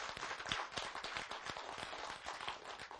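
An audience claps at a Korean storytelling lecture, a steady patter of many hands heard faintly at a distance, continuous for a few seconds with no voices over it.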